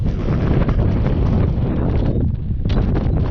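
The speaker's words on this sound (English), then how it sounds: "it's just way too windy" Strong wind buffets the microphone at a Northumberland viewpoint in a loud, continuous roar with gusty surges, briefly easing before picking up again.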